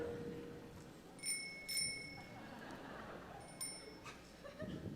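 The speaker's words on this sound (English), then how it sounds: "So I brought my bike bell." Bicycle bell rung on stage at a live music show, several short bright metallic rings in separate bursts over a quiet room with faint murmur.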